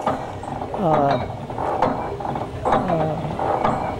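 A hit and miss engine idles slowly under its governor, ready to drive a belt for machinery like a cotton gin or sawmill. It gives a steady mechanical clanking and chugging with two stronger pulses, close by and alone.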